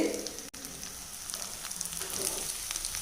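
Whole brinjal masala frying in oil crackles with a continuous fine sizzle, small pops scattered through it and a brief dip early on, moderately close and without speech.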